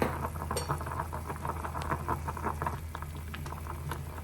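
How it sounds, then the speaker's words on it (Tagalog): A pot of soup with tomato, lemongrass and onion boils steadily, close bubbling and popping pattering over a low constant hum, with no voices. "Ayan na guys. Kumukulo na."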